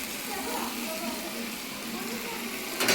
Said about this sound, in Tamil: இப்போது நம்ம இதில் தக்காளி போட போகிறோம்.